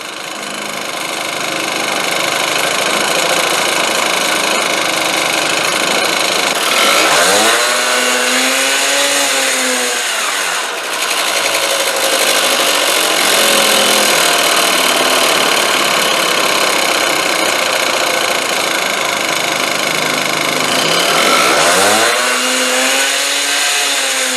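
A Honda scooter's two-stroke engine, fitted with a replacement Chinese carburetor, idles with a buzzing rattle and revs up twice in rising-and-falling bursts, close and loud with no talk.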